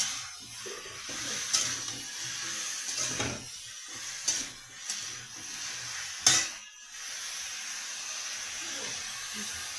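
Bottle gourd fries in a pan with ground cumin, making a moderate, continuous sizzle broken by a few sharp clinks and scrapes of a utensil against the pan.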